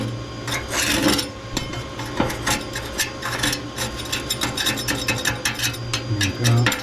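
Soot is scraped from inside a large Hunter boiler stove with a metal tool: repeated rough rasping strokes and scratches in an irregular rhythm, close and fairly loud, with no talking.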